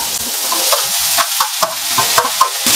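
Tomatoes sizzling and frying in a pan as palak paneer is prepared, with steady close-up crackle and a few stirring scrapes at irregular intervals, no voices.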